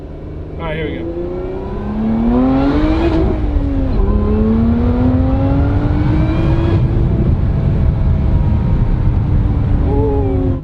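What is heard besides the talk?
Lotus Emira V6 engine accelerating with exhaust pops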